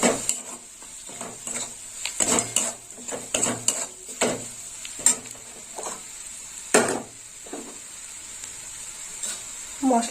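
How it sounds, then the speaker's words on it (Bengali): Ground turmeric and spices fry in hot oil for a fish curry while a spoon scrapes and stirs the pan in irregular knocks, with a soft sizzle underneath and a voice talking nearby. "ভাজা হয়ে যাবে মশলা"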